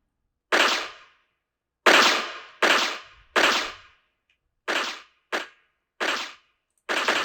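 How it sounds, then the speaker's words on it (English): Aircraft firing in a NetLogo agent-based video game, eight sharp synthetic gunshot-like bursts at irregular intervals, each with a short decaying tail and silence between them. "Now you will see different aircrafts are shooting at different times."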